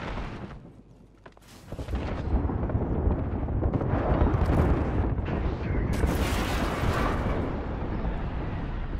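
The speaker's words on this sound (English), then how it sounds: "Airstrike coming in." Airstrike explosions in a video game, a long sustained run of deep booming blasts and rumbling that starts after a quieter opening second and stays loud and dense to the end, with no voices.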